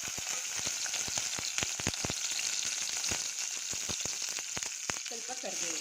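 Tomato, a small onion and a few garlic cloves fry in two spoons of oil with a loud, constant sizzle, peppered with rapid crackling pops throughout, close up and without talk.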